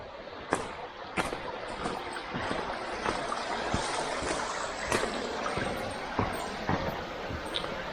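River water flows steadily near a gate in West Devon, making a constant rushing wash broken by scattered splashes and sharp knocks, fairly faint and without talk.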